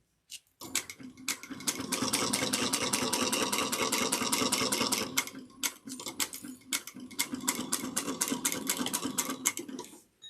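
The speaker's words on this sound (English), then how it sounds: "So when I'm top stitching 1/8 of an inch on here, away from the zipper tape, it is 3/8 of an inch." Domestic sewing machine top stitching a bag along zipper tape, fast even needle clatter in two long runs separated by a brief pause, close and clear with no voices.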